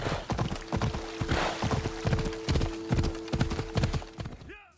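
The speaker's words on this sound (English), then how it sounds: "the gallops of the horse could possibly be the most satisfying sound ever." A horse galloping in the video game Assassin's Creed Odyssey, rapid rhythmic hoofbeats clip-clopping steadily and close, with a faint sustained tone underneath and a short whinny-like sound at the end.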